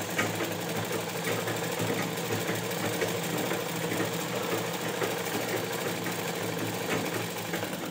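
Continuous steady whir and rapid mechanical stitching of a sewing machine sewing piping onto a ghaghra belt, running unbroken at an even pace, close and fairly loud, no talking.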